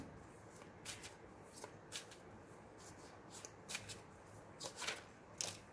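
Tarot cards are shuffled and drawn by hand, making soft, close, papery riffles and flicks in scattered bursts over a faint background hiss, with no talking.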